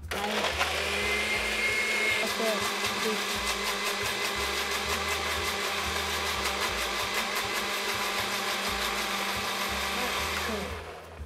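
Kitchen blender whirring steadily as it blends sugar and oil into a mayonnaise-like sauce, a loud continuous motor drone with a pulsing low rumble that runs for about eleven seconds before cutting off.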